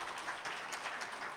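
Luncheon audience at a Key Pop Hub event clapping: a soft, distant ripple of many hands applauding evenly throughout, without distinct individual claps.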